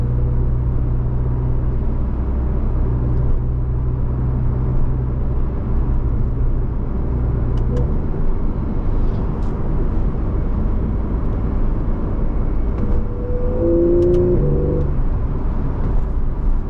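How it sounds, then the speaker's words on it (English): Porsche 911 Carrera 4S 991.1 Cabriolet with PDK, 2014, heard from inside as its engine intake drones steadily and loudly, the low rumble shifting partway through as the car accelerates, with a brief rising whine near the end. "See what I mean by the intake noise really being more important than the exhaust?"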